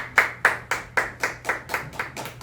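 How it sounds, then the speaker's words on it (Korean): Audience clapping in unison at a public meeting on election fraud, about nine sharp, evenly spaced claps in a slow steady rhythm, close and clear, with no talking. "박수로 좀 주시기 바랍니다."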